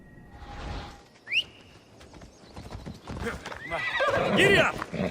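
Horse in the Assassin's Creed Odyssey video game whinnies sharply, then hooves clip-clop at a steady gait under a whistle and a spoken voice.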